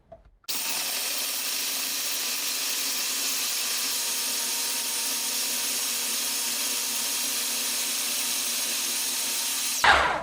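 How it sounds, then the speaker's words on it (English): Food processor pulverizing cashews, almonds, walnuts and raisins for a vegan cheesecake, a loud steady whirring motor running continuously after a click start, then stopping. "we have placed the nuts, which is the cashew, not the cashew nut, the almond and the walnut in the food processor with the raisin"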